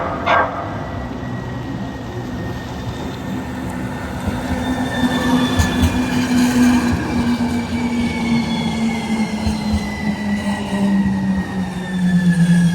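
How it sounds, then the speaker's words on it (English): A transit train in Houston rumbles past close by for several seconds, loud and continuous, with a long whining tone sliding downward and brief wheel squeals. "Be patient while the train is coming."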